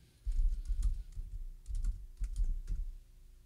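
Quiet bursts of keystrokes on a computer keyboard as a username and password are entered, clustered taps in a few short runs separated by brief pauses.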